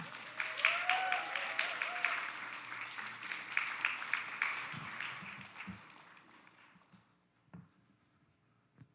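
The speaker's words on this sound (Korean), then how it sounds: "우리 뜨거운 격려의 박수로 우리 환영해 주시면 감사하겠습니다" Church congregation applause welcoming a preacher at a Korean Baptist Sunday service, moderate clapping that fades out over about six seconds, followed by a few scattered sounds in near silence.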